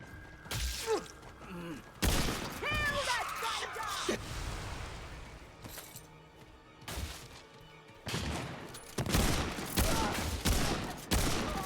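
Loud, repeated bursts of enemy gunfire from the video game Remnant II, with rapid volleys and impacts broken by short pauses. A voice is briefly heard among the shots.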